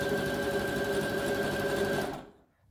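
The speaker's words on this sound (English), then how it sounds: "I'm just going to sew that" Sewing machine stitching down the neck of a kantha cotton blouse, a steady close whirring run for about two seconds that then stops and falls silent.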